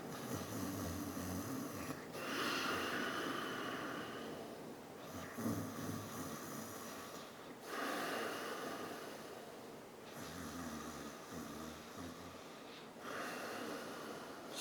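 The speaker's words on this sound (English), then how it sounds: "Ujjayi, and it's known as the ocean's breath" Slow, steady Ujjayi breathing, the ocean's breath made with a restricted throat, with long hissing inhales and exhales in an even rhythm, close and soft with no talking.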